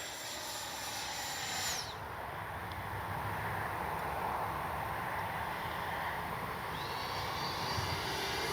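An FMS Integral 80mm electric ducted-fan RC jet flies past, its high whining fan rising and falling in pitch as it comes close, then fades before returning, steady hiss throughout.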